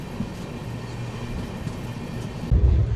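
Inside the 12245 Duronto Express passenger train while it is moving: a low, steady rumble that grows suddenly heavier and louder near the end.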